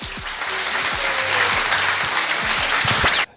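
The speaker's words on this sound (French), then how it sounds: "on peut les applaudir bien fort" Loud, steady applause from a crowd at a party gathering, dense clapping throughout that cuts off abruptly at the end, with a brief high whistle near the close.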